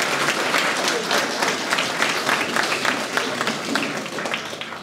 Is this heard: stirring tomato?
no